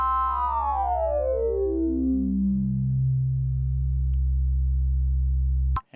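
A Sequential Pro 3 digital wavetable oscillator sweeps downward from a bright, buzzy, harmonic-rich sound into a smooth, low sine-wave hum, sustained steadily before cutting off with a click.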